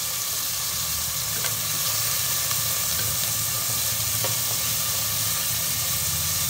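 Onions, chopped green chillies and curry leaves sautéing in a pan for an egg curry, giving a steady close sizzle and frying hiss that runs unbroken and evenly loud throughout, with no talking.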